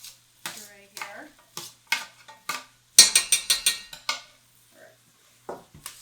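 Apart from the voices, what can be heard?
scraping brown sugar off the bottom of a soup pot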